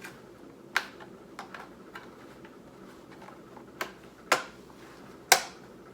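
Plastic colour filter pieces snapping onto a Neewer ring light, giving a handful of sharp, separate clicks spread unevenly over a quiet background, a few louder and close.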